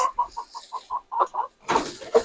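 Light Sussex and Speckled Sussex chickens at a hatchery clucking in a quick, evenly spaced series of soft notes, close by, ending with a louder burst of squawking.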